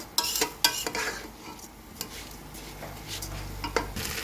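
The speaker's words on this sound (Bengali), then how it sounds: "এটার সাথেও এখন ভালো করে ভেজে নেব পোলার চালটা" Polao rice frying and being stirred in a pan with fried spices: a soft, steady sizzle broken by sharp scraping clicks of a utensil against the pan, close up and with no talk.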